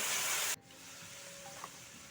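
Water poured into a pan of spice masala fried for a rohu fish and cauliflower curry: a loud, steady sizzle that cuts off abruptly, leaving a quieter simmering hiss with a faint tone.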